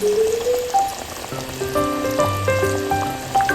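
Beef or mutton curry cooked with satkora citrus and finished with coriander leaves sizzles in a pan, a steady, close crackling hiss running throughout alongside melodic background music.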